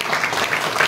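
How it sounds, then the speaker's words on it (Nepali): A church congregation claps in a brief, dense burst of applause from many hands, heard close and alone. "दाजुभाइपट्टि ताली बजाइदिनुस् त तपाईले"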